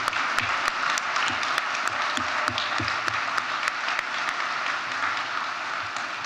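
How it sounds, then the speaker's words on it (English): Audience applause for the honorees at the Ohio Fire Service Hall of Fame and Fire Awards ceremony, a dense, even patter of clapping with some crisp individual claps, sustained for several seconds without speech. "How about a round of applause for all our honorees today?"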